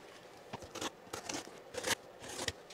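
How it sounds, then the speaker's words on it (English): Unboxing a LiTime Group 24 LiFePO4 12V 100Ah battery package, with a series of short, crisp crinkling and tearing bursts of cardboard and plastic packaging, close up, with no talk. "let's do a little unboxing here."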